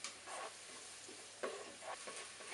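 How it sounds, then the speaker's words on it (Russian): Chopped onion sizzles softly in oil in a Polaris multicooker while a utensil scrapes and stirs it in a few quick strokes, close and fairly quiet. "пока наш лучок жарится"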